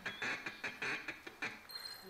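A duck call blown as a feed call gives a rapid run of about seven short, raspy quacking notes in an even chattering rhythm, loud and close, trailing off at the end.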